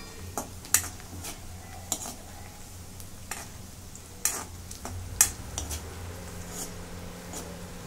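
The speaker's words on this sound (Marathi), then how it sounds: "लसूण चांगला तांबूस रंगावरती तळून घेते." Garlic and cumin frying in oil sizzle softly and steadily in a pan, broken by sharp metallic clinks and scrapes of a utensil stirring at irregular intervals, with no voices.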